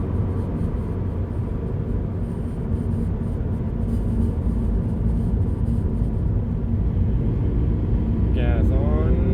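A car engine rumbles low and steady as the gas pedal is pressed and released, the drone swelling slightly and easing. A voice talks over the engine noise throughout.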